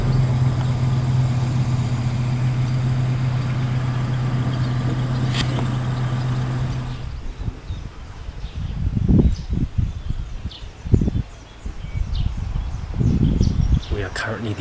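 A vehicle drives on a road in Thailand, its steady engine drone and road rumble filling the first half, then quieter interior noise with intermittent thumps and rustles.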